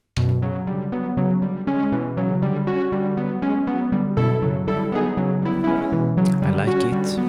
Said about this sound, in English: we can take the modulation source to use a noise source to modulate the analog filter